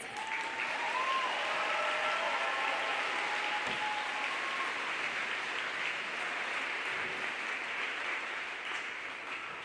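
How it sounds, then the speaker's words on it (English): Sustained applause from a large audience at a high school graduation ceremony, a dense even clatter of clapping that carries for several seconds and tapers slightly at the end. "let's give all of our graduates a round of applause for their accomplishments"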